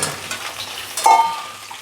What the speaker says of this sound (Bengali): এবার পটলগুলো ভাজার জন্য এতে দিয়ে দিলাম।